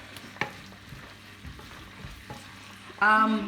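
Orzo and prawns being stirred as they heat in a frying pan, giving a soft, steady sizzle with scattered scrapes and clinks. A louder burst of sizzling rises near the end.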